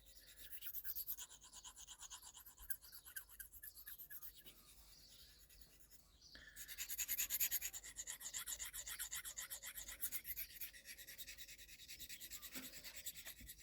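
Steady scraping strokes of a Boker penknife blade, USA made and new, being sharpened, a quiet rasping rub that continues with short breaks and grows louder midway, with no voices.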